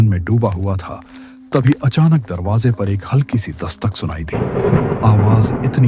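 Heavy rain and rumbling thunder of a thunderstorm run steadily behind a narrating voice, the broadband downpour swelling louder toward the end.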